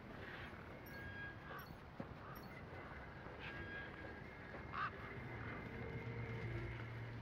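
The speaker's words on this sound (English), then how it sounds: "These were tough desert birds." Desert birds in the video game Beyond a Steel Sky give a few short, faint honking calls over a steady ambient hum.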